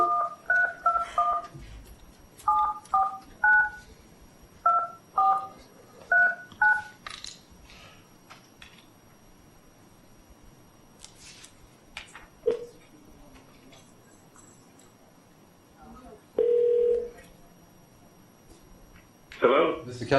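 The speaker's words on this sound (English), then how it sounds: "I'm going to go ahead and call him right now" A courtroom speakerphone dials a call: a quick run of paired DTMF keypad tones beeps in short clusters, then quieter hum, a brief ring tone and a click near the end, with faint voices in the background.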